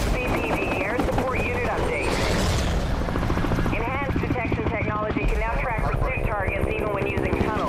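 Helicopter in the racing game Need for Speed Hot Pursuit Remastered: rotor chop buried in a loud, dense game mix of engines and impacts, with a voice talking over it.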